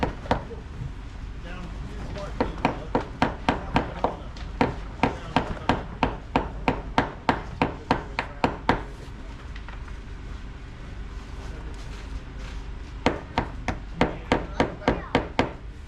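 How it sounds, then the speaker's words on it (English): Wooden dowels are hammered into holes in a historic building, a steady run of sharp, woody whacks in close succession, pausing midway before a few more blows resume, with some talk alongside. "just whacking these in to fill the holes in"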